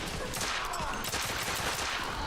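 Dense, sustained gunfire in a firefight in The Order: 1886, set in Victorian London, crackling shots overlapping into a loud, continuous barrage with no talk.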